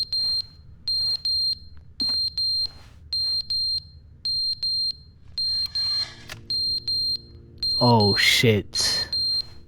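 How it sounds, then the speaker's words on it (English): A smoke alarm beeps in regular repeated bursts, loud and close, with a man briefly swearing near the end. "Oh shit, the alarm."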